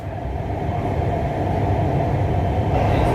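A Lahore Orange Line metro train runs with a loud, steady low rumble and rolling hum throughout, a continuous interior ride noise with no voices.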